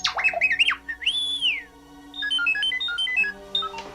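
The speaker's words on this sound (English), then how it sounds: "they cut to an insert of R2 beeping." R2-D2, the Star Wars droid, chirps and warbles in a rapid burst of electronic beeps, rising whistles and trilling tone sequences, close and clear with short pauses between phrases.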